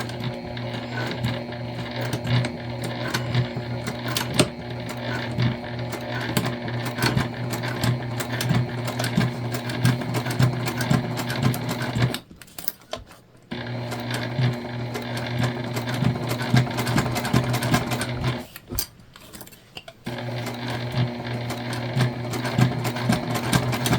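A sewing machine top stitches a fully lined gift bag, running in a steady rapid rhythmic whir close up, with two brief pauses before resuming.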